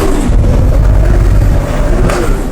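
A Nissan S15 with a Toyota 2J engine revs hard on a run, a loud, steady, close engine roar that holds throughout.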